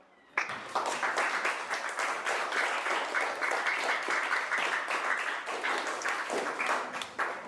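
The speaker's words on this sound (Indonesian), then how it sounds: "silakan tepuk tangan" Classroom applause breaks out abruptly as students clap together during a primary science lesson, a dense, steady burst of many hands that continues without letup for several seconds.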